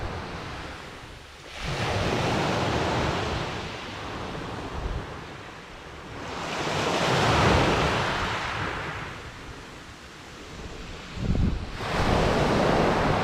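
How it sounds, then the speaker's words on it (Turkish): Sea waves on Karaot beach near Fethiye on an overcast January day, rolling in as three long swells of surf that rise and fade over several seconds each, with wind buffeting the microphone. "Dalgaların sesi huzur veriyor."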